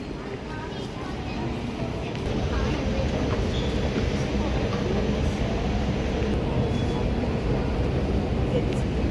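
A train rumbles at a Sydney railway station platform, a loud steady broadband roar of rolling wheels and engine that swells slightly after the first couple of seconds and holds.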